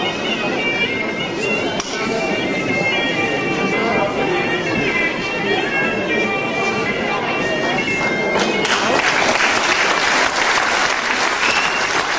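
Applause from the audience at a kickboxing match, a steady loud clapping that swells near the end, with crowd chatter mixed in.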